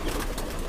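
Pigeons cooing softly as they peck at grain, a steady low murmur close by with no talk.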